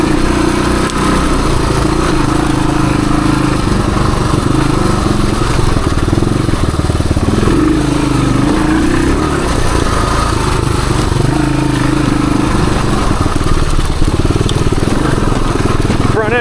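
A 1978 Suzuki DR370 dirt bike rides wooded trails, its engine a continuous, fairly loud drone that rises and eases with the throttle, with no break for the whole stretch.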